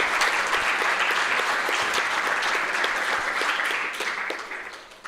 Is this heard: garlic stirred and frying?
no